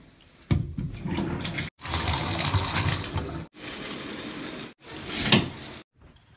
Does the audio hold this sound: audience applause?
no